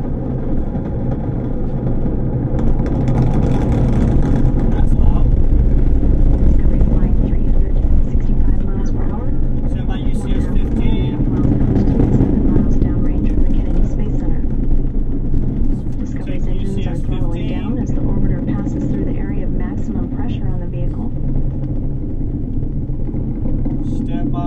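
Space Shuttle Discovery lifting off on mission STS-119, a continuous deep rumbling roar heard from inside a production truck, steady and heavy for the whole span, with radio voices talking over it.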